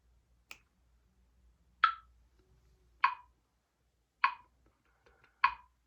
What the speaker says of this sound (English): let me tap on the metronome